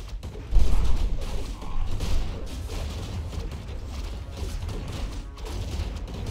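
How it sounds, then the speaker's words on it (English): Mortar team bombarding an Orc main base in a Warcraft III Human versus Orc match on Twisted Meadows; muffled booming impacts and mechanical rumble, with one stronger hit early and then a steady low clatter of battle. "Mortar team is still attacking the main"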